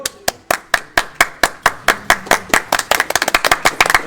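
Hand clapping breaks out in an office during a Super Smash Bros. match between Wii Fit Trainer and Min Min, starting as slow, distinct claps that speed up into quicker, overlapping claps from a few people nearby.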